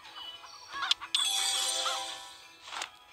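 A cartoon chicken in the farming video game Hay Day gives a loud, nasal clucking squawk after two short chime-like clicks, sustained for about a second and a half, followed by a fainter trailing sound.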